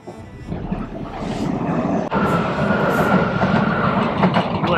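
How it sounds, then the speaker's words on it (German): A U-Bahn subway train in Austria rumbles past close by, a loud continuous rolling roar with rail clatter that builds and holds, heard from the roadside during a road-bike ride. "Da fährt die U-Bahn."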